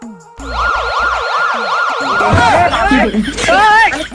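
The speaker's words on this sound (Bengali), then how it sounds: "বড় অ্যাম্বুলেন্স আসতেছে চলো" An ambulance siren wails loud and close in smooth rising-and-falling sweeps, then breaks into a chaotic jumble of warbling tones and noise for the last two seconds.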